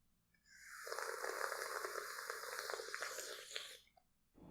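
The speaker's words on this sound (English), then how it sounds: "It's very important to drink water as obnoxiously as possible on camera." Close, loud and deliberately exaggerated drinking of water, one continuous gulping and slurping stretch of about three seconds that ends abruptly.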